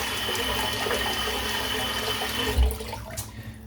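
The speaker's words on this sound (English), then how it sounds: "Let's fill the sink up." Tap water running into a sink in a barbershop setting, a steady close rushing and splashing that continues throughout.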